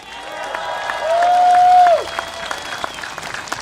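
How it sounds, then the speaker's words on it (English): Crowd applause at an outdoor political rally in a stadium, a steady roar of clapping and cheering from a large crowd, with a sustained whistle-like tone rising over it briefly in the middle. "Once again, round of applause, please"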